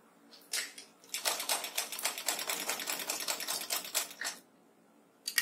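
A sewing machine stitches a half-inch seam on a small summer dress for Radha-Krishna idols, running in a steady rapid whir of needle strokes for about three seconds after a brief start, then stopping, close and alone.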